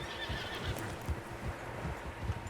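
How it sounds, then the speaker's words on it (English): Several horses in the snowy wilds of the Red Dead Redemption 2 game whinny and neigh amid the dull clop of hooves and low rumbling ambience, repeated calls rising over steady background noise. "Horses, quite a few of them."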